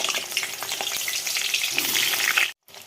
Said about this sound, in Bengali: এখন এই যে আলুগুলোকে হলুদ লবণ দিয়ে একটু ভালো করে ভেজে নামিয়ে নেব